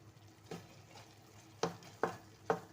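Lentils being stirred and roasted in a pot with a crumbled vegetable stock cube, giving four soft scraping clacks of a spoon against the pot, the last three spaced about half a second apart, over a low background.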